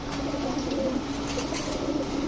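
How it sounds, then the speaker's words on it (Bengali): A male Indian fantail pigeon coos steadily at close range, its soft low rolling notes running on without a break and with no speech. "ইন্ডিয়ান ফ্যান্টেল এটা নর"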